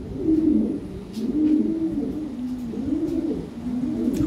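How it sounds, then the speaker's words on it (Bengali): Lahore Siraji pigeons, a big top-quality breeding pair, coo in rolling, wavering phrases, loud and close, with a few sharp clicks or taps between calls and no talking. "এখানে এক জোড়া কবুতর আছে, টপ কোয়ালিটি, বিগ সাইজ"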